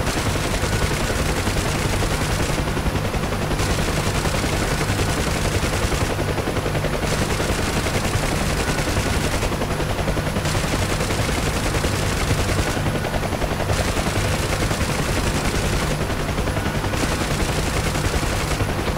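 Sustained gunfire in the DCS flight simulator combat game, a dense continuous rattle of rapid shots with brief regular gaps, loud and unbroken over the full span with no talk.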